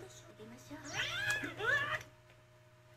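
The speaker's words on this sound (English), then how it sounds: "Oh, it's a cat." Cat meowing in an anime, a couple of rising, drawn-out cries close up over a faint steady background tone, without talk.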